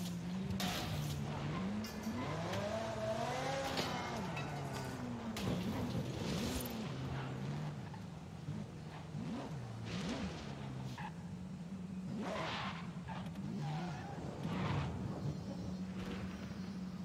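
A 2014 Ferrari California T convertible driven in a racing video game, its engine droning steadily with rising and falling revs and occasional tyre squeal, loud and continuous throughout with no talking.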